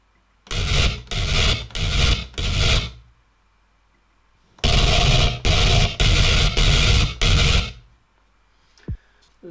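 Harsh, gritty dubstep synth built from two wavetables with no autopan, played in two bursts of rhythmic grinding stabs, four then five, separated by a short gap.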